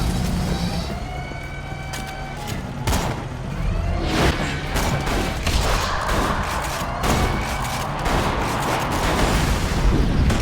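Gunfire in the video game Borderlands 2, including shotgun blasts, lands as sharp repeated bangs among dense, loud game noise: explosions, whines and alarm-like tones layered throughout.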